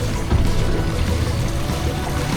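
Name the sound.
water flushing through live well bait tubes on boat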